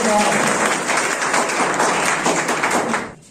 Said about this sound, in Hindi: नए मेहमानों का एक बार जोरदार तालियों से स्वागत करें।